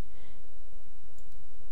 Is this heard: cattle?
no